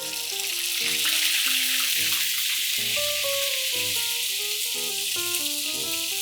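Ginger garlic paste sizzles and spatters in hot oil in a pan for an Indian radish curry, a steady bright crackling hiss running throughout, close and fairly loud, alone without talk.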